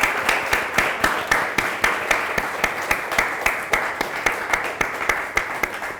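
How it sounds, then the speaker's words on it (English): Applause from a small audience at a university veranda chat and book signing, steady clapping with a rhythmic pulse, fairly close and alone without speech. "give a round of applause for Lyvonne"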